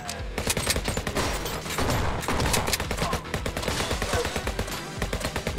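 Rapid, continuous gunfire rattles through HyperParasite gameplay, with dense overlapping shots and no voices.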